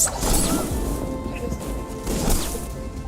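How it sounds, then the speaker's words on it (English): Objects smashed in a film scene as a man angrily destroys everything around him: sustained crashing and thwacking clutter, loud and dense throughout, with bursts of impact near the start and again toward the end. "In order to destroy the evidence, Yui Gang angrily smashed everything around him"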